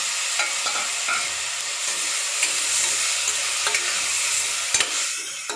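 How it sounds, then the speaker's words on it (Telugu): Chopped tomatoes sizzle in a pan with ginger garlic paste for a mixed veg kurma, a continuous bright frying hiss broken by occasional scraping stirs and light clicks, close by with no voices. "వేగుతుండగానే కట్ చేసి పెట్టుకున్న టమాటాస్ వేసుకున్నాను"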